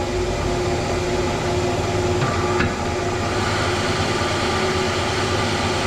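A King Canada 10x22 metal lathe turns down a metal part, giving a continuous mechanical hum and rumble with faint tonal whine. Two brief clicks or knocks sound near the middle, and no one talks.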